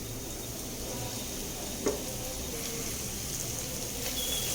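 Chopped tomatoes go into frying onions for street-style pav bhaji, giving a faint, even sizzle with one brief clink of a utensil, quiet and without voices.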